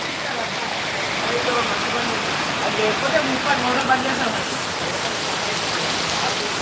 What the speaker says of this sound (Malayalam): സാധാരണ റോഡിൽ ഇത്രയും ഒഴുക്കോടെ ഇങ്ങനെ പോകുന്നുണ്ടല്ലോ എന്ത് അതിവേഗത്തിലാണ് വെള്ളം പോകുന്നത്